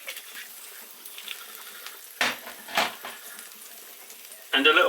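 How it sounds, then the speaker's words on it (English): Oil poured into a hot pan used to sear sirloin steak crackles in short sizzling bursts, then flares into a louder, sustained sizzle at the end, close by. "I'm going to add a little bit of oil to the pan,"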